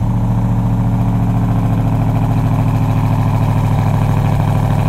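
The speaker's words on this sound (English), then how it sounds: "the stock exhaust isn't awful by any means. It has a good, you know, throaty sound to it." A Ram TRX pickup truck with stock exhaust idles steadily with a deep, throaty rumble and even pulsing exhaust, loud and close throughout.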